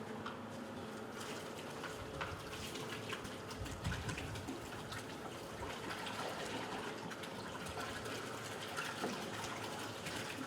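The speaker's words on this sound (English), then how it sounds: "Senior Drill Sergeant Collins will pour red punch" Red punch is poured for a toast at an Army basic training graduation ceremony at Fort Sill. A soft, continuous trickle of liquid runs steadily for about ten seconds, faint and close.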